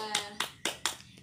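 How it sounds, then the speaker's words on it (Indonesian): A classroom group gives a few quick claps, four or five sharp slaps in a short burst, fairly close and moderate in level. "beri tepuk tangan untuk Tika"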